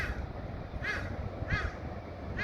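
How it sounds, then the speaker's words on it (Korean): Crows in a residential street in Yangnam-dong, Busan, give two harsh caws about half a second apart over a steady low hum of outdoor background noise, with no one speaking. "까마귀가 붙어 있어요"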